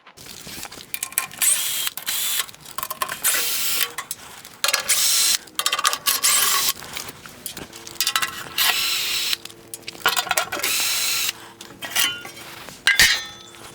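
A ratchet wrench clicks on a truck in irregular bursts of sharp metallic ratcheting, with occasional clinks of tools and metal between them, close and fairly loud.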